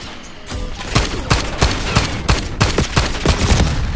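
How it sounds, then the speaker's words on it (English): Rapid full-auto gunfire from a semi-automatic weapon in Call of Duty Black Ops 6, with a steady string of loud, close shots cracking about three times a second for several seconds. "My semi-auto just turned into a full auto."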